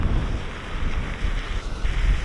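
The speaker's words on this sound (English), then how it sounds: "And the water is flowing really, really fast, like crazy." Fast-flowing floodwater in Innisfail, Australia rushes in a continuous, loud roar close by, mixed with gusty wind buffeting the microphone.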